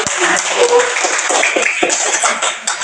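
Classroom applause for a student discussion group in Indonesia, a close burst of many hands clapping with a few coughs and chuckles mixed in, tapering toward the end.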